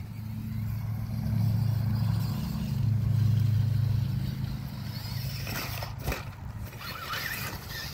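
A Tamiya Super Clod Buster RC monster truck with a hard body drives over a small ramp, its electric motor humming low and rising and falling, followed by clattering bumps near the end.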